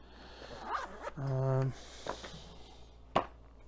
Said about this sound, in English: now I can't find the zipper